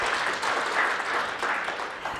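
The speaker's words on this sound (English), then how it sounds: "let's give a round of applause to Jolly" An audience gives a short round of applause at a welcome event, a dense patter of many hands clapping steadily for a couple of seconds.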